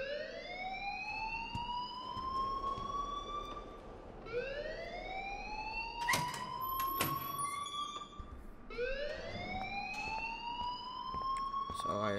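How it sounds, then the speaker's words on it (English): A school fire alarm in the video game Life Is Strange wails in repeated rising sweeps, three loud cycles over a low background, with brief clanks in between. "please turn off that alarm since that's your job"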